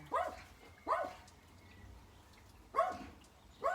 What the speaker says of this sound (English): She'd be jumping and barking.